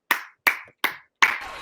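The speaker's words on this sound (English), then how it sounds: "can we get a round of applause for Bailey's ass?" Four sharp, separate hand claps close up, evenly spaced about a third of a second apart, the last one ringing out with faint background noise.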